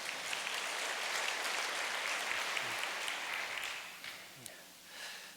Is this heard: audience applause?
yes